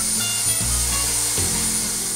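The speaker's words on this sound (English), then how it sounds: "ran that panel over across the top of that blade at an angle" Table saw blade cutting across an angled pine cabinet door panel, a steady close whirring rasp of wood being shaved throughout the short pass.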